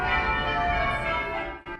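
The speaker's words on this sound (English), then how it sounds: "The bells were going off like crazy because there was actually a wedding going on" Church bells of St. Margaret's Church in London ringing for a wedding, a dense, loud, continuous peal with rich overlapping tones, cutting off near the end.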